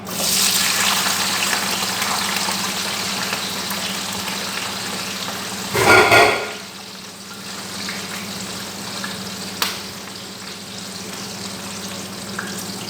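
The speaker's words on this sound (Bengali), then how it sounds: "এখানে আমি তেলটা গরম করে দিয়েছি, আর দিয়ে দিবে এখন পেঁয়াজ কুচি আর হলো কাঁচামরিচ কুচি।" Chopped onion and green chili dropped into hot oil for a bitter gourd stir-fry, a loud steady sizzle with a brief louder burst midway, then a quieter hiss and the occasional scrape of stirring.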